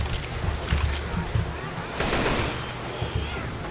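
AK rifle fire in the zombie shooter Left 4 Dead 2 during the Hard Rain finale, with rapid bursts of shots and heavy booming blasts layered over constant noisy game action.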